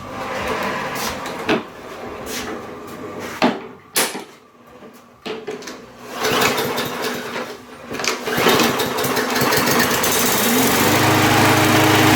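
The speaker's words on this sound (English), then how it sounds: "Fire this thing up and see what it does." A Craftsman 21-inch push lawn mower is pull-started with several sputtering tries and clunks, its small engine then catching and settling into a loud, steady running drone close by.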